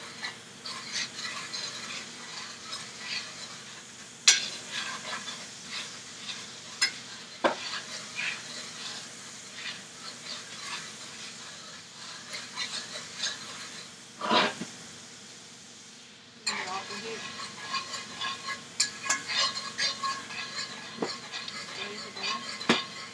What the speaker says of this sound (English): If the heat goes too high, you'll break the sauce.